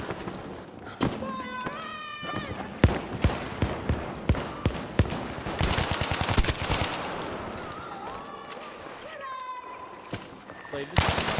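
MAB38 submachine gun firing in a war video game on an underground map, quick bursts of rapid shots amid other battle noise, with voices talking over it.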